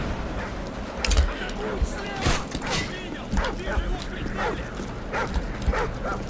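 Dogs bark and yip in Call of Duty Modern Warfare 3 survival mode, several sharp barks and whimpers spread through the passage among gameplay noise, with someone talking over them.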